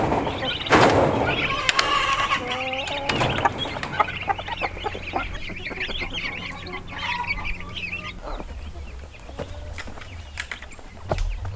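Delaware broiler chickens clucking together on a homestead, a busy flock chorus of steady clucks and calls filling the scene, fairly close, with a few louder squawks and a voice briefly joining in.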